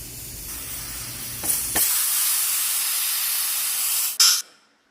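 A pressure cooker vents steam as its weight is lifted, letting out a loud, sustained rushing hiss that cuts off, then gives a short final burst and fades.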